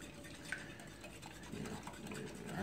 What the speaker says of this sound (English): So you whisk this up.